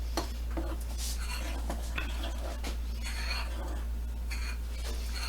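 A spoon stirs a buttermilk mixture of milk soured with lemon juice or vinegar, giving soft irregular scrapes and light clinks against the bowl over a steady low hum.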